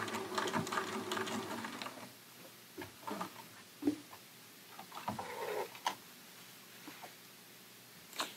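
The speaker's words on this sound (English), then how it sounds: "Stitch a few stitches, reverse for 3, and then finish out at the very end" A sewing machine runs a line of stitches and then back-stitches on fabric being prepared for a zipper bag, a quick close whir that gives way to short bursts and scattered clicks, fairly quiet with no talk.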